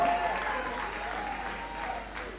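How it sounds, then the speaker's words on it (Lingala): Audience applause at a live stage comedy show, a steady wash of clapping at moderate level with crowd murmur underneath, continuing without a break. "On applaudit frénétiquement pour Buster Saint-Toul."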